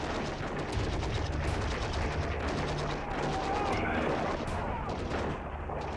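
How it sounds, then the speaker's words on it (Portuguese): Gunfire erupts from inside a compound, dense overlapping bursts of rapid shots that run continuously as an intense firefight, loud and unbroken throughout. "De repente, tiros são disparados de dentro do complexo."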